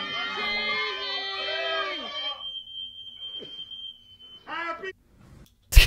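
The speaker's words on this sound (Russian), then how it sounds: "Сигнализация пожарная." A piercing, steady high-pitched alarm tone rings out amid shouting voices, then stops abruptly.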